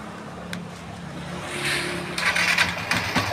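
A Yamaha FZi fuel-injected motorcycle, hot-wired to the starter, catches and settles into a low idle close by, with a brief clatter and a rise in engine noise toward the end.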